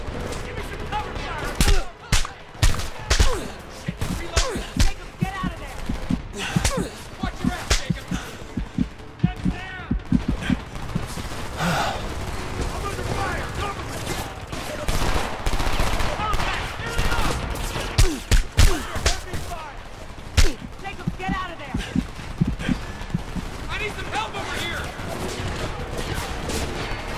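Gunfire in the Homefront video game, with rapid automatic bursts and scattered shots crackling almost without pause, while voices call out over the battle.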